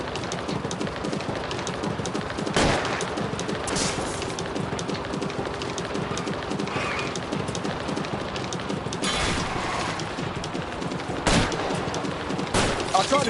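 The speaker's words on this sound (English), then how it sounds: "I'll try to shoot out his tires." Gunfire in the crime video game LA Noire as shots are aimed at a fleeing car's tires: several sharp, loud cracks spaced apart over a busy, noisy game soundtrack with clattering background sounds.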